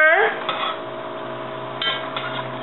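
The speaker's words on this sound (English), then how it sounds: "we're going to give that a stir because these Dutch ovens get hot" A metal spoon clanks against a hot Dutch oven while stirring homemade beef stew with vegetables, with a ringing clatter at the start, a second clank partway through, and softer scraping in between.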